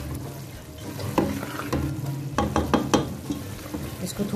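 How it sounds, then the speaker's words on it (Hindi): Biryani masala sizzling in a hot pan for beef biryani while a spoon stirs and scrapes, with irregular clinks and shuffles, close up and without talking. "इसको थोड़ा सा मैं भून लूंगी।"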